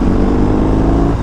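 A BMW R 18 motorcycle engine on a test ride, a loud steady low rumble with wind noise, running continuously without talk.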